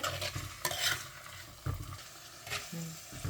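Beetroot being stirred in hot oil in a pan, with scraping spoon strokes and a soft sizzle in irregular bursts, close by and moderately quiet.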